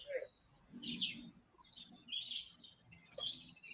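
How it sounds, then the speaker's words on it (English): Small birds chirp and tweet outdoors in short scattered bursts, fairly faint against low background rumble, with a few overlapping calls. "I was just listening to the birds chirp"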